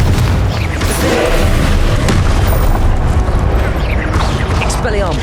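Confringo blasting spell explosions in the video game Hogwarts Legacy amid combat: continuous loud booming and crackling blasts layered with spell whooshes, dense and close throughout.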